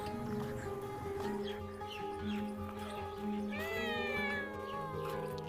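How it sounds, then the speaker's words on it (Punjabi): A trapped cat meows repeatedly, with several drawn-out cries at close range, and one voice talks around the calls. "ਯਾਰ ਇਹਦੇ ਵਿੱਚ ਇੱਕ ਬਿੱਲੀ ਆ"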